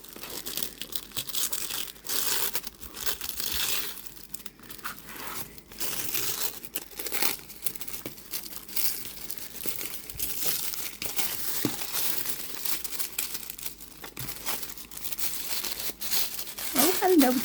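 Oracle card deck packaging with stickers is opened by hand, giving ongoing crinkling and tearing of plastic and paper throughout, with a person speaking intermittently.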